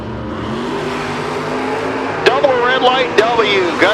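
1968 Chevrolet Camaro drag car at a door-car drag racing event, engine droning and then revving hard in sharp bursts near the end as the cars launch, with a commentator talking over it.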